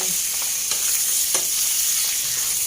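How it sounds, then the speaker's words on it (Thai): Pork leg frying in hot oil in a pan, a steady close sizzle with a few sharp spattering pops and no voices. "ขาหมูนะคะ เอามาจี่น้ำมันนะคะ มาทอดในน้ำมัน"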